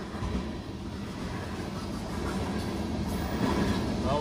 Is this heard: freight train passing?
yes